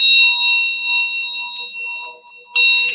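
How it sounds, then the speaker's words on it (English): A small handbell rings with bright, sustained metallic tones that fade slowly, then a second sharp strike near the end rings out loudly again; no talking. "Let's give you guys a little bell."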